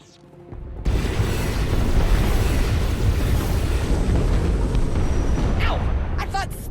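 A sudden roar of heavy booming cannon fire in Star Wars: The Old Republic, rumbling blasts running on continuously and loudly, with a voice briefly breaking through near the end.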